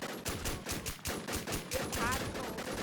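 Video-game gunfire crackles in rapid, repeated bursts like automatic weapons, fairly loud and rhythmic across the whole stretch, with a faint voice underneath.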